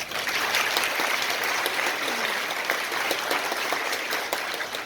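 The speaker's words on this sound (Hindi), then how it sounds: "उनके लिए तालियां बजाएं" Sustained audience applause fills a school annual function hall in Ajmer, a dense, steady wash of many hands clapping at even loudness throughout, with no voices standing out.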